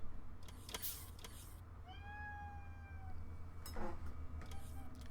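A house cat gives one clear, drawn-out meow partway through, close by, over a low steady hum and some faint clicks and rustles.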